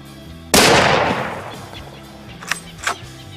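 A single loud, close rifle shot fired at a bushbuck on an African hunt cracks sharply and decays over about a second, followed by two faint clicks.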